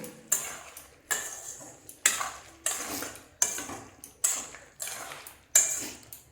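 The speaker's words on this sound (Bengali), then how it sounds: "দিয়ে আমি ভালো করে এখন মিশিয়ে নেব" A spatula works ginger-garlic paste and chili powder into chicken in a kadai, making about eight steady, evenly spaced scraping strokes against the metal pan, close and distinct with no talking.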